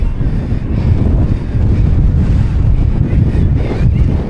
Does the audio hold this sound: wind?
yes